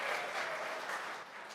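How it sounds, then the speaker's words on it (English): Audience at a Tesla and SpaceX presentation clapping: a short burst of dense applause from a crowd, fairly faint and even, fading slightly at the end, with no talking. "You don't have to clap after every slide unless you really want to"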